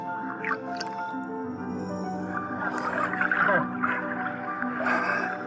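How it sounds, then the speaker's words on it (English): Fish are shredded by hand as bait around sharks, giving wet squelching and squishing bursts over a steady tonal hum. "I continue to shred fish,"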